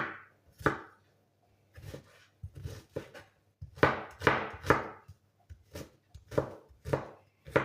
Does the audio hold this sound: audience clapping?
no